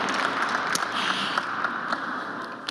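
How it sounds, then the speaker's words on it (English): Steady applause from a crowd, a dense wash of many hands clapping together at moderate volume, with no voices over it. "can you clap for yourself that you're here"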